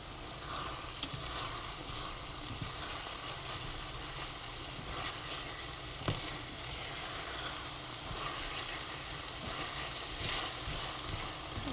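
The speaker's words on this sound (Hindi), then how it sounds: "और मसाला भी अच्छी तरह से भुन गया है। आप देखें तेल निकल आया ना आजू बाजू में।" Okra and masala frying in oil in a pan, a soft continuous sizzle and crackle heard faintly, with occasional small pops and stirring scrapes.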